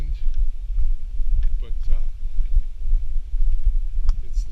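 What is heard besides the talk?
wind blowing through tree leaves on a mountain ridge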